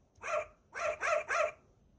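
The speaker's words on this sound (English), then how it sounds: "Suddenly, she heard a little bark." A little dog's recorded bark from an interactive sound button book: four short, bright yaps, one alone and then three in quick succession, clear and close with no talk.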